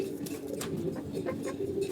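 Pigeons cooing softly in a home loft, low repeated throaty coos close by, with a voice talking over them.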